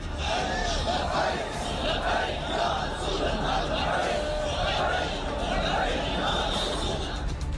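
A huge crowd at Khadim Hussain Rizvi's funeral in Pakistan roars and chants without a break, a dense, loud wall of many voices shouting together.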